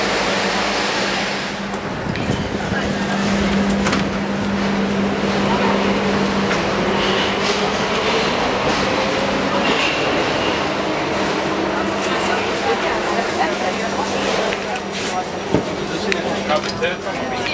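A Budapest metro train runs with a loud, continuous rumble and rattling roar, a steady tone persisting under the clatter of the carriage throughout.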